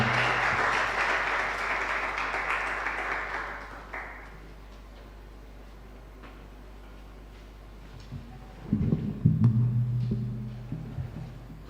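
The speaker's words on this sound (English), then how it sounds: "Please applaud him as he comes." An audience applauds a speaker at a law event launch, a dense burst of clapping that fades out after about four seconds. A low background hum and murmur follow, with some louder handling noise near the end.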